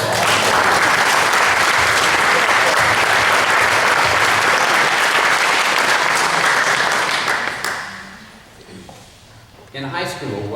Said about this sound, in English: I think we need to give Jim Cummins a round of applause.